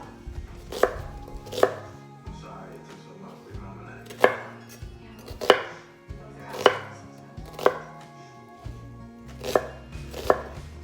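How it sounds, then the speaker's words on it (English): A knife chops a large red onion into cubes on a board, with about eight crisp, evenly spaced thuds close by. No one speaks. "Peel 1 large red onion and chop it up into cubes."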